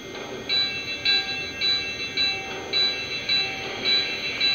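A Lionel Legacy Long Island H10 model train's small bell rings repeatedly in a steady rhythm, bright metallic dings with a faint mechanical hum underneath.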